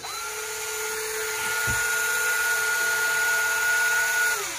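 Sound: Daiwa Hypertanacom 400BDe electric fishing reel line winder running

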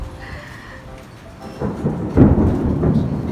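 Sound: heavy rain and thunder

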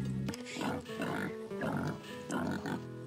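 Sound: pigs oinking in Freddi Fish video game

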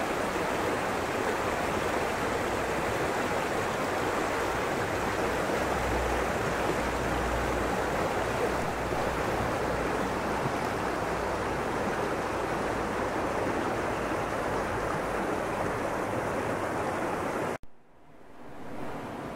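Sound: stream flowing

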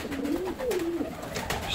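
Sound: pigeons cooing

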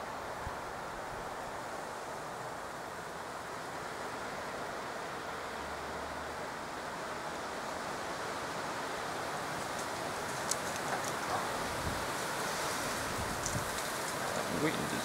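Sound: strong wind

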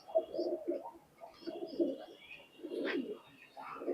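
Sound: teddy pigeons cooing

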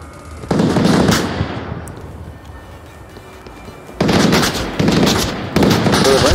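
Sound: gunfire in the video game Onward

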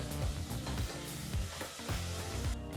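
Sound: frying spice powders with yogurt for aloo biryani

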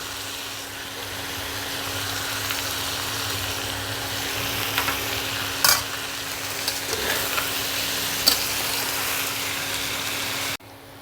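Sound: frying and stirring in a pan

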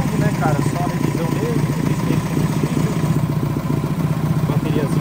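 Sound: VW Gol car engine running

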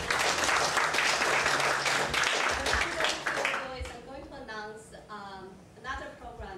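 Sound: audience applause

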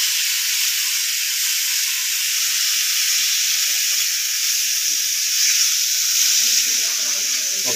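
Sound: food frying in a pan for homemade pizza

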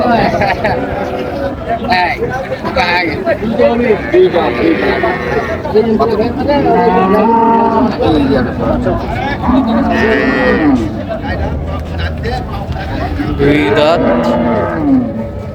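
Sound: cattle mooing at a livestock market

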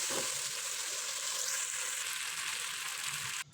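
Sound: winter vegetables for khichuri sautéing in a covered pan

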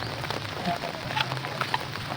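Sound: rain falling

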